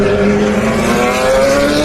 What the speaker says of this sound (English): Isn't that lovely, the sound of the 911s and the Ferraris